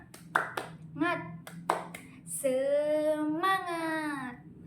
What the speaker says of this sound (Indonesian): Contohnya seperti tepuk semangat